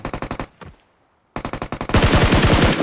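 Gunfire in the battle royale game PUBG: rapid automatic bursts, a short pause, then more sustained fire that grows louder and denser toward the end, loud and close with no talking.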